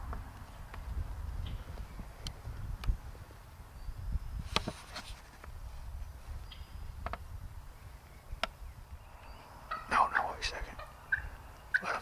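A wild turkey gobbles during a youth turkey hunt outdoors, several short rattling calls at moderate distance scattered over a quiet background, the loudest bursts near the end, with faint rustling and no talk.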